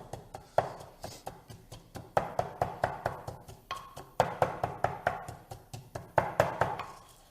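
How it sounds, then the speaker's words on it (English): Garlic mashed with salt into a paste for ful medames, a steady run of sharp, close knocks in quick bursts of several strikes with short pauses between them. "Smashing the garlic,"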